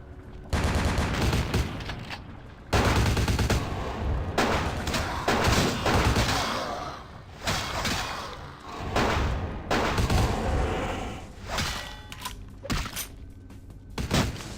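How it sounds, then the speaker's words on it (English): Machine gun fire in Vampire: The Masquerade - Bloodlines, loud repeated bursts of automatic gunfire with short gaps between volleys, continuing through most of the stretch with no speech. "what's with the machine gun, man? That ain't cool."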